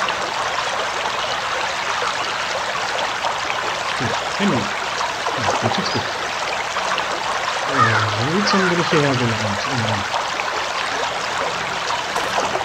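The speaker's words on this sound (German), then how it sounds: "Zu lautes Geplätscher." In the adventure game Anna, loud water splashes and trickles in a steady stream. Someone talks in German over it.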